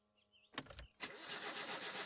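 A car engine in the video game My Summer Car cranks briefly, catches and starts, then settles into a steady, fairly loud idle with a rough, noisy texture.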